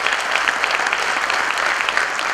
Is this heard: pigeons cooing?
no